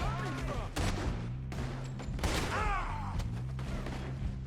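Red Dead Redemption 2 gunfight with repeated heavy shotgun blasts and scattered gunfire, loud and booming over layered game music and effects.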